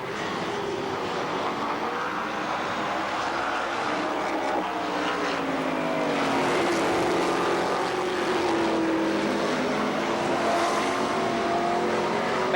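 Several race cars roaring around Columbus Motor Speedway, their engines in a steady, loud, droning wash with passing pitch sweeps as the pack circles the oval.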